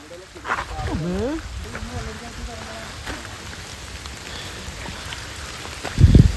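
Steady rain patters in the background while people talk over it, with a brief heavy thump near the end.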